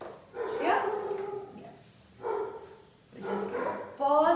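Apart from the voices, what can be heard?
dogs barking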